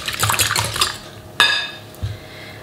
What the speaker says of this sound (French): On vient doucement mélanger nos œufs.